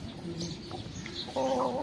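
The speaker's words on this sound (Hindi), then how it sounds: "ये हमारी जो मुर्गी आ गई है ना" A laying hen on a village farm clucks softly over a faint background, with a few short low calls followed by a slightly louder, sharper cluck near the end.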